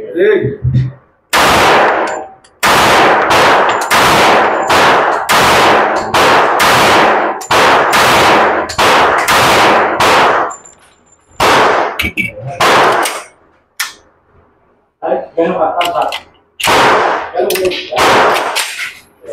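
Gunshots ring out at an outdoor shooting range: a long string of sharp, closely spaced, loud cracks with metallic ringing, then scattered shots separated by short pauses.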